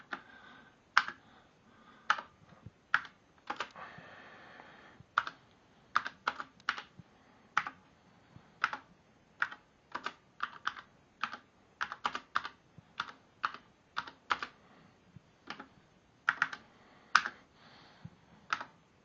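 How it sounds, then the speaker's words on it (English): Keys clatter on an Apple IIGS computer keyboard in slow, uneven bursts of one-handed typing, with crisp individual clicks and short pauses, close and clear with no speech. "It's tough to type with one hand."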